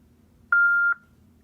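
A voicemail beep after a sheriff scam message: a single clean electronic tone lasting under half a second, clear and close against faint line hiss.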